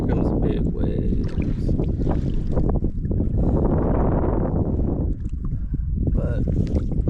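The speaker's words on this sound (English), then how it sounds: "kind of windy out here. Here comes the big waves." Strong wind buffets the microphone while waves wash and surge around a sea kayak on a trip off Catalina Island, one large swell rising and falling midway through.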